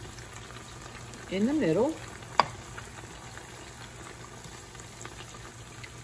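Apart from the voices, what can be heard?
onions dropped into butter in a pan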